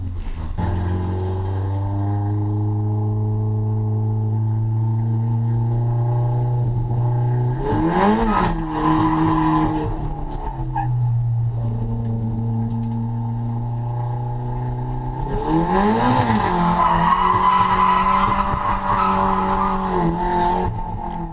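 A car drifts sideways around a track day circuit, the engine droning steadily and then rising into loud revving with screeching tire squeal in two long bursts, close and continuous.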